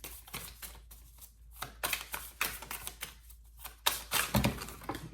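Tarot cards being shuffled by hand in repeated quick bursts of crisp riffling and slapping, close and clear, with short pauses between, no talking.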